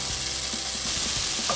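Food browning in a Dutch oven for smoked clam chowder gives a steady, close sizzle and frying hiss, with faint stirring scrapes.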